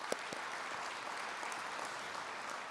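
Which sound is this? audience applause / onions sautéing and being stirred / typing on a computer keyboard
audience applause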